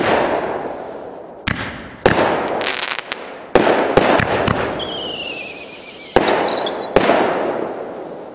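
Comet fireworks fire from an angled rack with one side malfunctioning: sharp launch bangs punctuate the clip, with whistling, squealing trails rising midway between bursts, loud and close.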